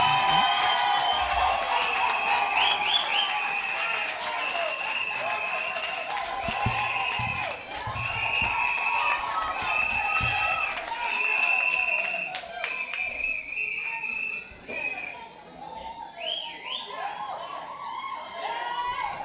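A town hall meeting crowd in Castries Southeast greets a speaker with cheering, shouting voices and scattered clapping, a loud, lively mix that swells and dips over nearly twenty seconds.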